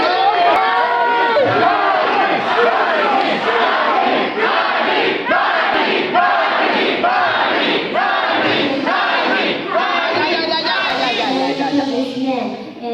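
Mexican fans at a ℃-ute fan meeting in Mexico roaring and chanting loudly in rhythmic bursts, a dense crowd of voices filling the hall.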